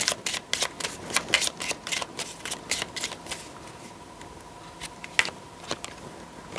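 Playing cards being shuffled for a tarot or oracle reading, a quick run of crisp riffling bursts and soft flicks, close and moderately quiet, with no voices.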